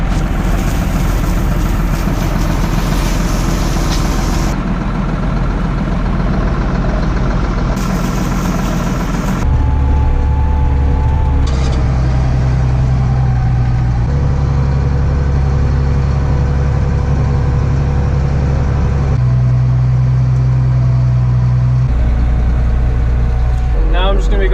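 A tractor packs corn silage, driving slowly back and forth over the pile. Its engine drones steadily and loudly up close, with the low rumble shifting in pitch as the machine changes pace.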